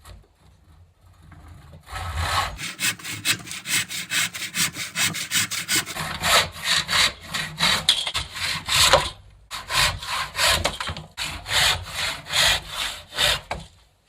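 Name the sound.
sawing hickory axe handle into 8-inch chunks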